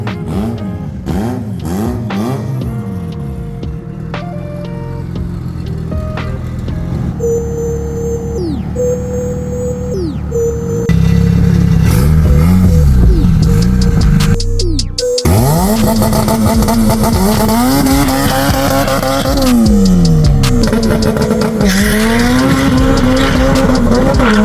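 An all-wheel-drive Honda Civic conversion, a turbocharged race build, accelerates hard with loud rising and falling engine revs through gear changes, a whistling turbo note and tire squeal, growing louder and closer toward the end.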